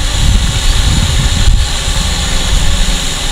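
A flying drone buzzes loudly with a steady, dense propeller whine and roar, continuous and close for the whole stretch.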